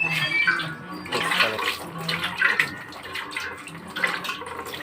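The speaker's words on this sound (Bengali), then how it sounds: "একেবারে নোড়াটাকে ধুয়ে দিচ্ছি, তারপরে শিলটাকেও একেবারে ধুয়ে দেবো।" Water splashes and runs over a stone grinding pestle as it is washed, irregular pouring and splashing with bursts rising and falling over a few seconds, close by, no voices.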